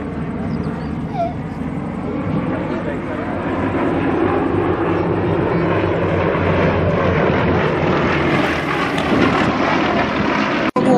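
Five Yak-52 propeller aircraft fly past together in a Vic formation at an air display, a steady, broad engine drone that swells slightly as they pass, with commentary voices over it.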